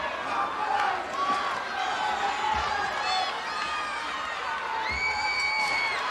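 A cheering section at the American Gladiators Season 3 Grand Championship whoops and shouts continuously, a lively crowd roaring throughout with loud voices rising and falling.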